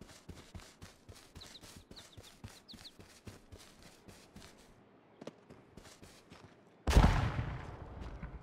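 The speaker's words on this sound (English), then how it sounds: "He just shot at me." In a battle royale video game, distant bursts of rapid gunfire crackle in a steady rhythm, then a much louder, close blast erupts near the end, with no talk.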